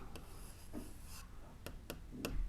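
Urdu being written by hand, a few soft scratchy pen strokes on paper, faint and close in a quiet room, with no talking.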